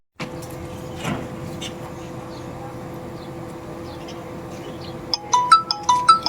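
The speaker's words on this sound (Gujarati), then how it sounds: "લા નિખિલ નો ફોન" A mobile phone rings for an incoming call with a bright, repeating melodic ringtone that comes in near the end over a steady background hum.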